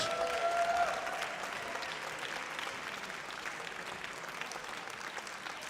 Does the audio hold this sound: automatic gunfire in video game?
no